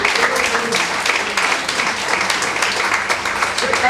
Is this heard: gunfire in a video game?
no